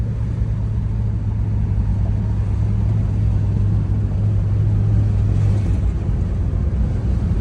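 A 1970 Dodge Coronet R/T convertible on the move, its engine giving a steady, low, even rumble with no speech over it.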